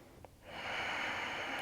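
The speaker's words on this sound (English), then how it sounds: "Take a full breath here." A single full breath is drawn in during a yoga pose, a soft, close, breathy rush of air that swells and holds steady after a brief faint sniff.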